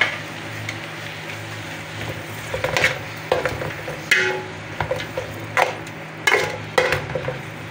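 Tomatoes tip into a hot pan of tilapia for sarsiado, raising a steady close sizzle broken by several sharp clatters and scrapes of a utensil against the pan, with no voices.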